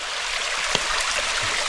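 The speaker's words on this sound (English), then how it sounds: "this delicate little waterfall just here" A delicate little waterfall, only about half a metre tall, at Lambley Dumbles splashes steadily up close, a continuous bright rushing hiss of falling water with no voices.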